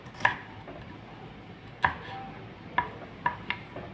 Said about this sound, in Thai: ตัดคั่วทิ้งก่อน